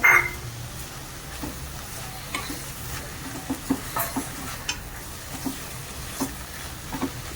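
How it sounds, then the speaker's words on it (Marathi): Fresh small shrimp (ola javla) with plenty of chopped coriander sauté in a pan, a soft continuous sizzle broken by light scattered stirring taps, fairly quiet and close. "आणि दोन तीन मिनटं त्याला परतू देणार आहे"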